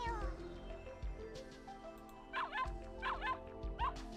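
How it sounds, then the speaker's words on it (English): A dog barks in the Ever17 The Out of Infinity visual novel game, three short bright barks at a steady pace over soft background music. "Oh, there's a dog! We have to save the dog!"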